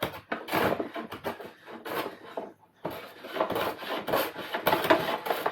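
A hand plane strokes across a wooden board, each rasping pass close and distinct in a loose rhythm, with a brief pause midway before the shaving continues.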